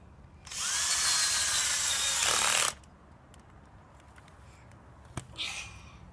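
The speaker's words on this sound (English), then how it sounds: "When you're drilling a hole, you don't use reverse on the drill to take the drill out." A power drill bores a hole in garden soil while rose bushes are being planted. It makes a loud, steady whirring grind for about two seconds, then stops abruptly, followed by faint outdoor quiet and a brief soft scrape.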